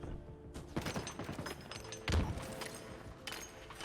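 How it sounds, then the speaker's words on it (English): Gunfire bursts in the video game Halo, with rapid rattling shots and thuds in irregular volleys, one heavier impact partway through, over game background noise. "Gunshots coming from the base."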